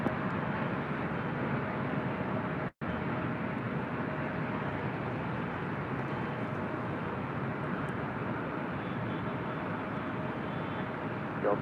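A Delta Airbus A319 airliner's jet engines at LAX make a steady broad roar, continuous and moderately distant, with one brief dropout early on and no voices.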